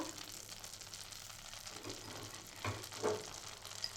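Butter melting in a hot kadai, giving a faint, steady sizzle and frying crackle with a couple of small clinks, quiet and close.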